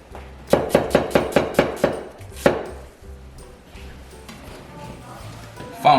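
A knife chops onion into strips on a board, about eight quick, evenly spaced knocks followed by one more, then quieter kitchen sounds.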